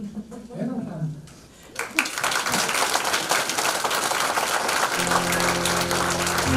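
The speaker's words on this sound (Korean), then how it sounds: "큰 박수 부탁드립니다" A lecture audience at a special talk by a KAIST professor breaks into big applause, dense clapping that swells after a short stretch of speech and holds steady, with a faint tonal layer joining near the end.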